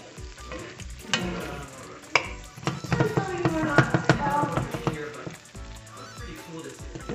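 Mushrooms frying in a hot pan, a bright sizzle that swells as they land and are stirred, with spatula scrapes and clinks, under a voice talking at times.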